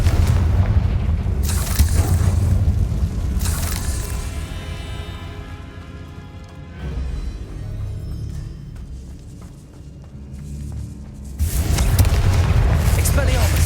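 Confringo blasting-curse explosions in the video game Hogwarts Legacy: heavy booming blasts open and close the sequence, with quieter rumbling and ringing effects between them, all under a speaking voice.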